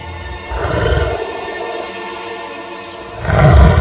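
A lion in a cartoon story roars twice, a deep, loud growling roar at the start and another swelling roar near the end, with a lower rumble in between.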